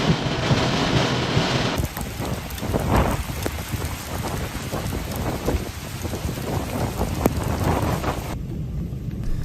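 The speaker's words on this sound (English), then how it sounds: "Storm damage in Iowa after a severe storm strikes." Heavy, steady rain pours down during a severe Iowa storm with a continuous roar and rumbling thunder underneath, loud and close throughout before easing slightly at the end.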